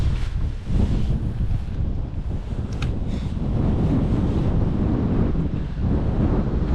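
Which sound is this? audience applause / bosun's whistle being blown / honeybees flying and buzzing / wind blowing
wind blowing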